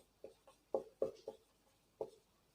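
Pen strokes drawing line PQ through point A for a triangle construction in a Class 9 geometry lesson: five or six short, soft scratching taps in an uneven rhythm, close up and quiet, with no talking.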